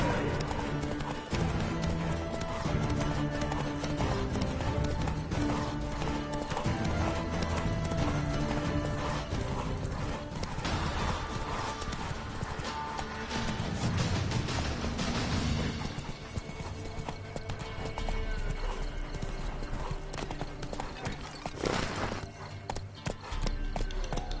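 Roach the horse gallops in The Witcher 3 with steady hoofbeats that run throughout. Music and battle noise layer over the hooves and stay dense and loud the whole time.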